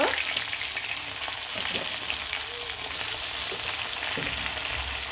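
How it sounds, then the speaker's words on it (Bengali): Spiced rohu fish pieces frying in hot oil for a fish and brinjal dish, a steady close sizzle and crackle running throughout with a few soft bumps, no voices. "গরম তেলে কিন্তু মাছটা খুব সুন্দরভাবে দিয়ে দিব।"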